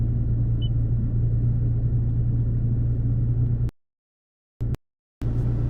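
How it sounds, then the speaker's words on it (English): Toyota Tacoma truck engine running after a cold start, a steady low idle rumble heard close up, cut by a few abrupt silent gaps near the end. "I'm going to go ahead and do a cold start. Truck hasn't been started yet today"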